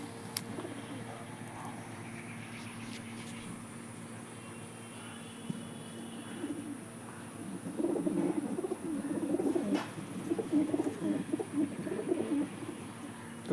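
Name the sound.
Kaldumar Regdar pigeons cooing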